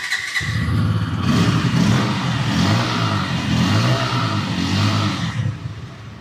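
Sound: motorcycle engine running and revving

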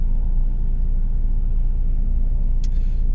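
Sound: fire trucks passing by on autobahn

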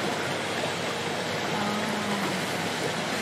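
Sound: hot water running into a jacuzzi

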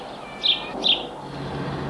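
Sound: birds cheeping

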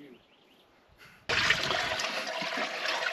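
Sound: water poured into old Chevy Biscayne engine

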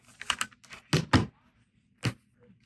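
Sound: cutting quilt fabric pieces for a table runner

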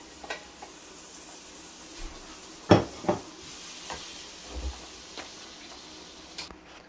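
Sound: pre-cooked katahar (jackfruit) added to bunjal masala and stirred in pot

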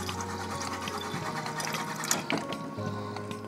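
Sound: filling a water bottle

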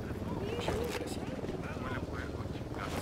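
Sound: helicopter approaching in the video game Ghost Recon Wildlands

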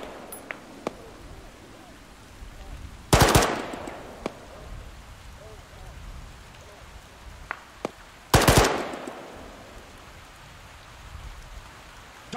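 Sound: machine gun firing in video game (Arma)

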